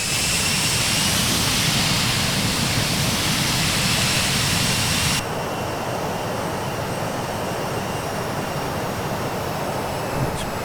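Jet engines of a Douglas DC-8 on approach in a flight simulator roar as a steady, loud broadband rumble; about halfway through the level drops slightly and the tone softens, with a faint whine lingering on top.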